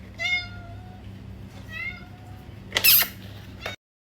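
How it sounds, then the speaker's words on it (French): A small, hungry stray cat in Thailand meows several times close by, a series of rising, plaintive calls with a brief rustle of a kibble packet in between, then sudden silence. "Oh bah oui, il a l'air d'avoir faim en plus, ce petit chat."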